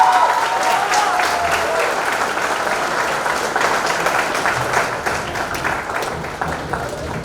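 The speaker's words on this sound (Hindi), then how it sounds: "इस प्राउड मम्मी के लिए एक बार जोरदार तालियां होनी चाहिए।" An audience at a Miss India pageant event claps loudly and steadily, a dense wash of applause that slowly eases toward the end.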